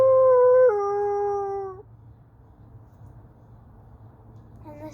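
A person imitates a wolf howl, holding a sustained vocal tone that steps down in pitch partway through, then trails off into quiet room noise with a brief voice near the end.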